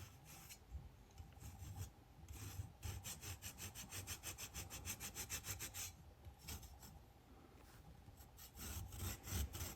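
A rasp grater shaves thick callused skin on a hand with palmoplantar keratoderma, heard as fast, rhythmic, close scraping strokes in a steady back-and-forth run, with brief pauses near the start and toward the end.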